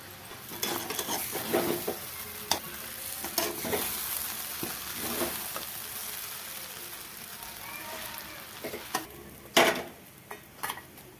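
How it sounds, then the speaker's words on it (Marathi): Schezwan noodles being stir-fried in a pan, with a steady sizzle close by and repeated scraping stirs and clinks of the utensil against the pan at irregular intervals. "सगळे नूडल्स चांगले दोन चार मिनटं चांगले परतून घ्यायचे"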